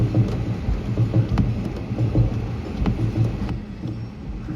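Heavy rain pours steadily outdoors during a palanquin procession, a dense rushing wash with low rumbles underneath and occasional sharper drops, continuous throughout.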